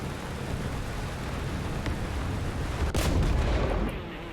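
An M4A4 tank gun fires in War Thunder, a single heavy boom about two-thirds through, rumbling against a constant engine drone.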